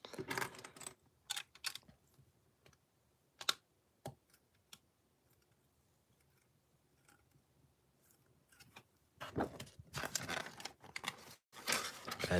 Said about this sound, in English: And there we go, a nice clean page turn.